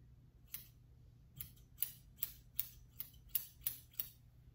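Scissors cut hair in a home haircut: about nine crisp, sharp snips in a fairly regular rhythm, close and clear over a quiet background.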